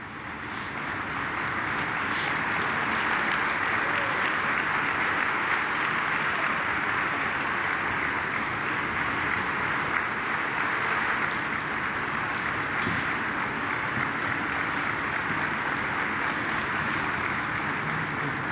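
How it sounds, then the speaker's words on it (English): Sustained applause at a Holocaust remembrance ceremony, a broad steady wash of clapping from a large crowd that holds at an even level for the whole stretch. "Applause from the Polish president there."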